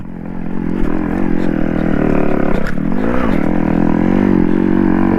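A Yamaha RX 135 motorcycle engine revs loud and close, straining steadily as it climbs a hill off-road, its pitch dipping and rising briefly midway before holding high.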